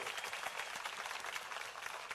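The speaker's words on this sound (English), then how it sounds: "let's give him a huge round of applause" Brief, faint burst of clapping from an awards ceremony audience, an even crowd patter heard from a distance with no voices over it.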